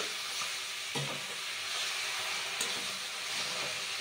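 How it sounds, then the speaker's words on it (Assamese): Fish heads fry in a pan of hot oil, producing a steady, close, hissing sizzle that fills the whole stretch, with a couple of faint clinks from the pan and no speech. "ধুনীয়াকৈ মাছৰ মূৰখিনি এয়া ধুনীয়াকৈ ভাজি দিয়া হ'ল"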